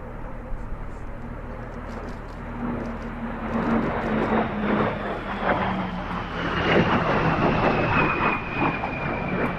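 A jet aircraft with an axial-flow turbojet engine at an air festival roars overhead with rising, gliding tones that swell and fade over a broad rushing noise.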